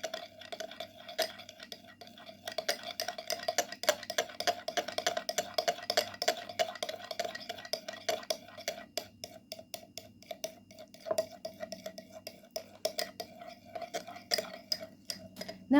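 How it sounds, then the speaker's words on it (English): Coconut oil hair mask ingredients stirred together in a bowl, a steady run of quick scraping and clinking strokes from a utensil lasting throughout at close range, with a faint voice briefly underneath. "And mix well all the ingredients."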